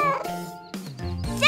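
A cat meows in a few short tonal calls close by, mixed with a bright, toy-like character voice, in a cartoon setting with a picnic scene.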